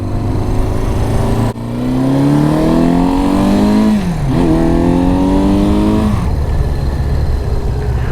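A cafe racer motorcycle idles, then its engine revs up and pulls away through rising gear changes, loud and close.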